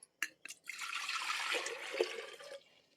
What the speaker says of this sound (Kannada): ಇನ್ನರ್ಧ ಫಿಲ್ಟರ್ ನೀರು ಹಾಕ್ಬೇಕು.